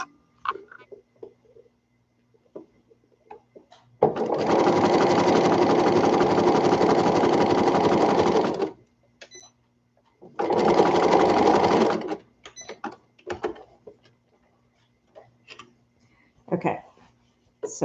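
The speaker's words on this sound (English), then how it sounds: "So I'm going to sew it so it goes past it." A sewing machine stitches the casing of a toddler peasant dress in two loud, close bursts of rapid running, the first about four seconds and the second shorter, with faint handling clicks between them and no talk.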